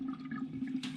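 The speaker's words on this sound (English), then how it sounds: "Oh, it's draining pretty quick." A bathroom sink full of soapy water drains after the stopper is pulled, giving a steady, close gurgling rush of water with a low hum underneath.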